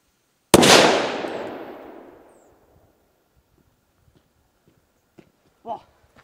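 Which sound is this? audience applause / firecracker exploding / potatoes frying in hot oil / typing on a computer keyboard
firecracker exploding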